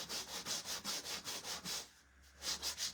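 Wooden Easter bunny figures are sanded by hand, a rhythmic rasping of quick back-and-forth strokes, close and fairly quiet, pausing briefly before resuming.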